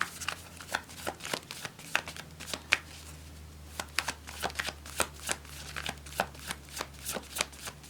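Stiff tarot cards being shuffled by hand, a steady run of soft riffling and tapping bursts in an irregular rhythm, close but quiet, with no talking.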